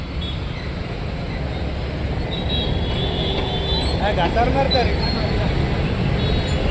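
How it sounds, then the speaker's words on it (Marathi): Road traffic passes below a terrace as a steady, dense roadway rumble with a faint passing tonal note partway through, heard from a middle distance and continuous throughout. "ट्रॅफिक बघ कसले आले"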